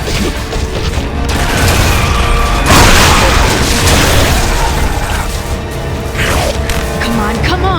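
A frag grenade detonates in Gears of War: Judgment, a loud broad boom amid continuous gunfire and clatter, with mechanical noise and scattered crashes; voices talk over the din.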